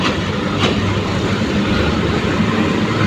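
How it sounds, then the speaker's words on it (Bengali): The Surma Mail, a small local train in Bangladesh, rolls onto the Gurashal bridge with a steady loud rumble and clatter of wheels, heard close from on board. "ট্রেন এখন গুড়াশাল ব্রিজে উঠছে"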